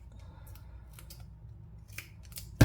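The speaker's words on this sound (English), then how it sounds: "get yourself a good pair of titanium non-stick scissors" Titanium non-stick scissors snip through an adhesive sheet in a quiet room, a few soft scattered cuts followed by a sharper, louder closing snip at the end.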